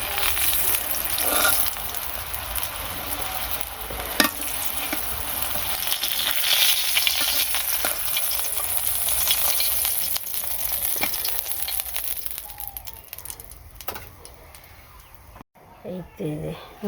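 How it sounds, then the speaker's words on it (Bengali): Food frying in a pan in a home kitchen, a continuous soft sizzle with occasional stirring clicks and scrapes, and someone talking over it at times. "সুন্দর ভাজা হয়েছে, লাল লাল করে ভাজলাম।"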